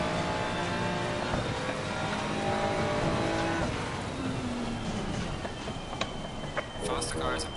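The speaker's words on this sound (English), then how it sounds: "Faster car is approaching, watch out." Race cars on a wet Kyalami circuit in a racing video game, a close engine drone with shifting pitch sweeps as a faster car closes in from behind, under a spoken radio-style voice.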